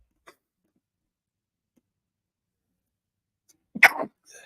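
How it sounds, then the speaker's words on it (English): A single sharp sneeze from a person at a computer, loud and close, after a long quiet stretch with only a tiny click early on. "how do I have sneezing so much?"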